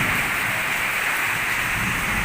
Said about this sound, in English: I'm glad it's finally raining here